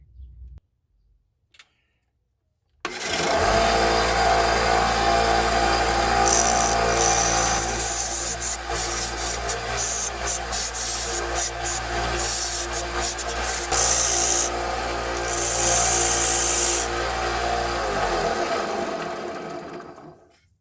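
An electric sander runs against a silver jewelry piece, starting abruptly after a few quiet seconds and whirring loudly and steadily with gritty scraping for about seventeen seconds before winding down.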